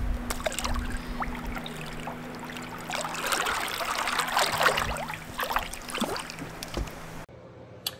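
A bass fishing boat runs across Pickwick Lake, steady motor drone under rushing, splashing water and wind buffeting, fairly close and continuous for about seven seconds before cutting off abruptly, with no talk.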